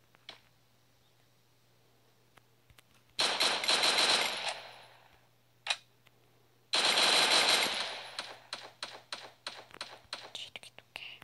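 Machine gun fire in the video game Free Fire, two long loud automatic bursts followed by a run of rapid single shots, close and dominant over a quiet background.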